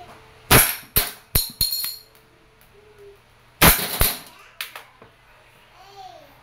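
Wingun 708 airsoft revolver with a 2.5-inch barrel being fired: a quick burst of four sharp cracks, a pause, then two more, close and crisp, with brief speech between.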